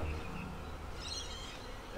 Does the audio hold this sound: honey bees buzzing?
yes